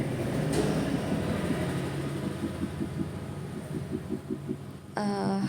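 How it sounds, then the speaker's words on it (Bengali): A train pulls into Giri Maidan station with a steady, loud rolling rumble and rhythmic wheel clatter, ending in a sharp horn blast. "এই যে আমার ট্রেন আসছে।"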